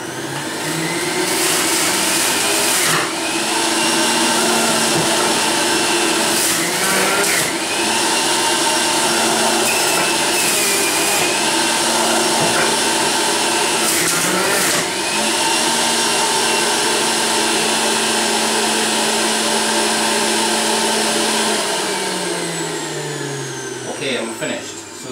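A Breville Juice Fountain Elite juicer runs at high speed on carrots, giving a loud, continuous motor whine with grinding that shifts in pitch as the carrots are pushed through, then winds down at the end.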